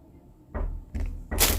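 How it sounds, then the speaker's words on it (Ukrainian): Knocking on a door indoors, heard as three loud, close bursts of raps spaced less than half a second apart, with no talk. "Хтось стукає зараз."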